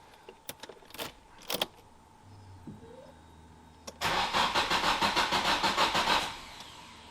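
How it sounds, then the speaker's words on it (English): A car with an SR20DET engine, just fitted with new fuel injectors to fix a misfire: keys jangle, then the starter cranks loudly in rapid rhythmic pulses for about two seconds before the engine catches. "time to attempt to start up the car"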